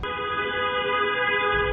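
Long, loud, sustained car horn blast on a road, a single steady tone held through the whole short clip with no voices.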